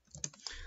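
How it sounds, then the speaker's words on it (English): A few computer keyboard keystrokes as a Windows 10 command prompt command is typed, soft clicks close by and fairly quiet, with no talking. "So open cmd and then type ipconfig."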